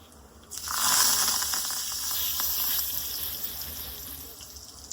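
Asafoetida and curry leaves hit hot oil, bursting into a loud, bright sizzle that starts abruptly, then settles into a steady crackling hiss that slowly fades.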